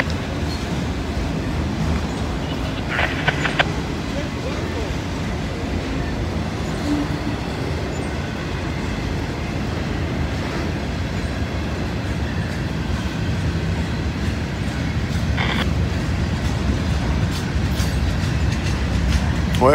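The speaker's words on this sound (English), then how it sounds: "This is that half auto rack," Half auto-rack, half mixed freight train rolling past at night, a steady broad rumble of cars on the rails with faint wheel clicks and a few brief squeals, continuous throughout.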